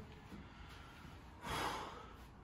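A person with dust allergies and blocked sinuses draws one loud, congested, snorting breath in, preceded by quieter breathing and followed by a fading exhale.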